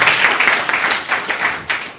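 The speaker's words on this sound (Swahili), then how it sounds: "Makofi kwa." Applause at a county government monthly press briefing in Meru, a short burst of clapping from a group with uneven, overlapping claps at fairly high volume.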